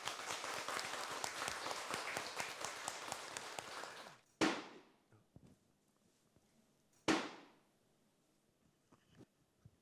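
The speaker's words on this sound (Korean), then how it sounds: "큰 박수 주세요." Audience applause welcoming a senior Buddhist monk at a ceremony, dense clapping for about four seconds that stops abruptly, followed by two sharp, loud strikes of a monk's staff on the ground with ringing decay.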